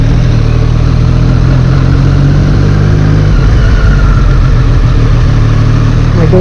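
A 2017 Triumph Street Triple 765 RS motorcycle idles through its exhaust, a loud, close, steady low engine rumble with a slight shift in tone partway through.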